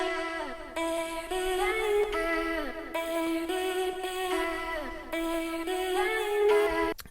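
A vocal element in the production of "God & Politicians" with an automated filter opening and closing, sustained tones in repeating phrases whose brightness sweeps up and down, steady and alone.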